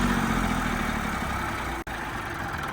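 A Massey 241 tractor engine idles close by with a continuous, even low rumble and a brief dropout near the end, with no talking.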